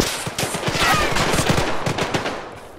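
Rapid bursts of automatic gunfire in a military shooter game crackle continuously and loudly, the rattling volleys overlapping with no pauses between them.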